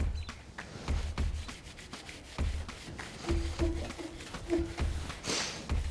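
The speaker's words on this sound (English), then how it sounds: "We're gonna use the Sidol and really use our elbow grease and kind of buff that out to make this stainless shine." A cloth rubs Sidol polish over a stainless steel grill, producing rhythmic close swishing strokes back and forth at a steady pace, with a sharper burst near the end.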